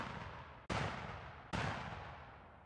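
Two loud broadband shotgun sound-effect blasts about a second apart, each trailing off into a long, washy decaying reverb that fills the space between them.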